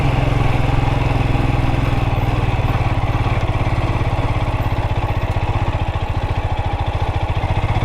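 A Royal Enfield Himalayan 411 motorcycle engine rumbles steadily at low revs on a dirt trail, a continuous close, pulsing thrum with some mechanical clatter and no speech.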